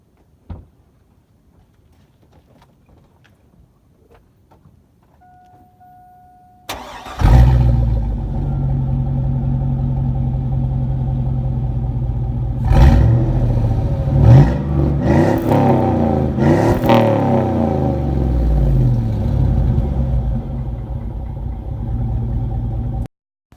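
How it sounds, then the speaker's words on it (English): A Chevrolet Tahoe V8 fitted with a new chamber muffler exhaust fires up after several seconds of quiet, settling into a deep, loud, rumbling idle, then is revved several times in quick bursts before returning to a steady burble. "I'll do a quick startup of the new exhaust"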